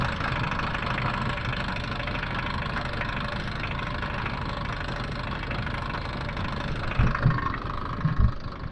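A tractor engine idles with a steady low rumble while a hay baler's jammed pickup spins, and a couple of louder knocks come near the end.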